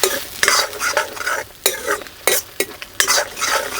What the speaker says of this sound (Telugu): ఇదంతా ఒక్కసారి అలా కలుపుకొని నూనె పైకి వచ్చే వరకు దీన్ని వేగనిద్దాం